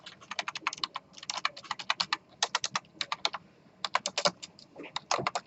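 A computer keyboard clicks in quick, uneven bursts of close keystrokes, pausing briefly between runs, with no voices.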